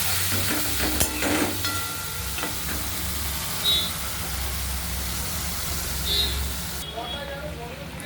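Fish curry spice paste sizzles steadily in a pan after a splash of water goes in, a close, even hiss with light stirring scrapes, and a voice talks over it.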